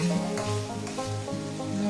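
Water poured into frying spices in a pan for a Bata fish curry, giving a steady close sizzle with soft stirring and scraping over about two seconds, no voices.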